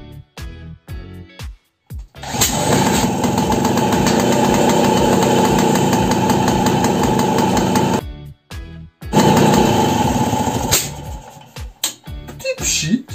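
A 1980 Motobécane 51V moped engine with a suspected air leak idling up close, loud and buzzy, running in two long stretches separated by a brief cutout, with a few knocks and clicks around it.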